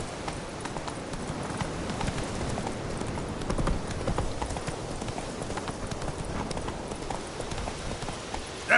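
Roach the horse trots with steady, continuous clip-clop hoofbeats in The Witcher 3, heard up close and fairly loud against a rough outdoor ambience, with no voice over it.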